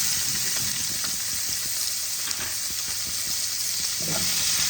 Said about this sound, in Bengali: পেঁয়াজগুলোকে ভালো করে ভেজে নেব।